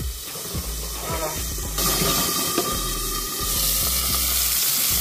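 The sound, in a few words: nettles frying in oil in a pan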